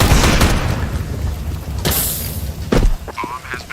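A Molotov cocktail thrown during a round of a tactical shooter video game, heard as bursts of crackling whooshes and booming impacts amid other gunfire and game noise, with brief speech nearby.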